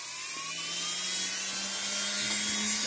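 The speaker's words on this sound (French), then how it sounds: "Je prends pareil comme lui, une brosse nylon, montée sur la Dremel." A Dremel rotary tool fitted with a nylon brush spins against coins while cleaning them, giving off a steady high-pitched whir that rises slightly in pitch, close and constant.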